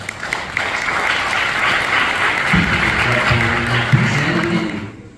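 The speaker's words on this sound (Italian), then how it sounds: "saluto la valorosa Presidente Elia Calilli, anche a lei chiederei un applauso." An audience at a national conference on the Lombards bursts into sustained applause, a dense, loud wash of clapping that holds steady for about five seconds before fading, with a voice briefly heard underneath.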